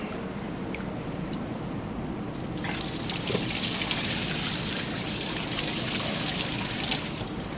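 Water sprayed and poured over a car during a rinse after applying Bilt Hamber Atom-Mac wheel cleaner, a steady close wash of splashing and trickling that runs the whole time with no talk.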